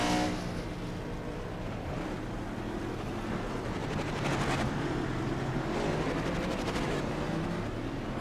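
Stock car engines roar continuously in an iRacing race at Indianapolis Motor Speedway oval, a dense, steady drone of many cars at full throttle with no talk.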